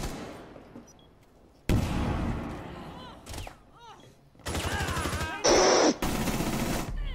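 Bursts of rapid automatic gunfire from an MX4 Storm in a video game, loud and close, coming in several separate volleys with short gaps between them.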